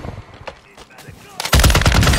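RAAL LMG machine gun firing in Warzone 2, a loud burst of rapid automatic fire erupting near the end after quieter scattered game noises.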